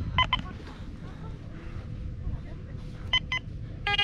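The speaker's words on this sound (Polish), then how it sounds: "mam tutaj sygnał. Taki 55, pewny do kopania, dźwięk taki dziwnej tonacji" A Quest X10 PRO metal detector sounds short electronic signal tones while sweeping over a buried coin outdoors: a brief double beep at the start, then two more near the end, over steady wind and low background rumble.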